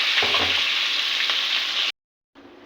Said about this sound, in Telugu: నూనె పెట్టుకున్నానండి నూనె వేడైంది ఉల్లిపాయలు పచ్చిమిరపాయలు వేస్తున్నాను